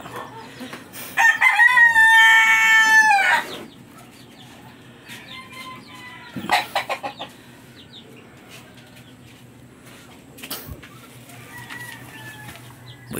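A rooster crows loudly once near the start, followed by scattered chicken clucks and a brief flutter against a quiet farmyard background in Cebu.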